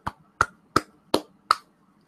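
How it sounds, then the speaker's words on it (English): Five sharp hand claps spaced about a third of a second apart, crisp and close with quick decay, alone in a quiet room. "So all I'm gonna do is clap."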